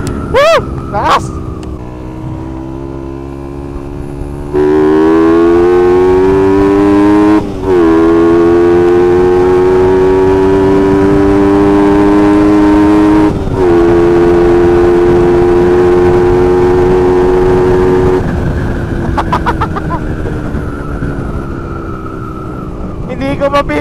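A Suzuki Raider 150 Fi motorcycle accelerates hard through the gears, loud and close, its engine whine climbing and dropping at each of several quick shifts before easing off, with a voice heard briefly.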